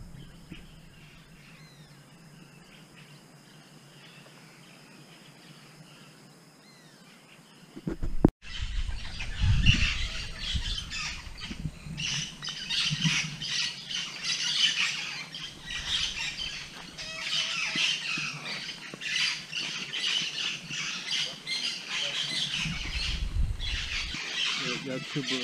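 Birds squawk and call around a treehouse lodge in the Amazon jungle near Iquitos, Peru. After a quiet start a loud, continuous chorus of harsh calls takes over, with a person speaking briefly.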